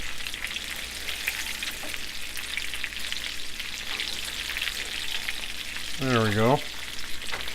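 Breaded chicken fries in a pan with a constant crackling sizzle while pieces are turned, a few soft knocks audible; a brief spoken remark and a short tonal squeak occur near the end.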